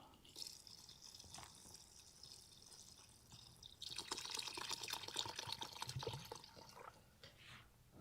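Water from a bottle pours and splashes into a pot of goulash stew at a campsite, starting as soft trickles and building to a fuller, bubbling pour before tapering off.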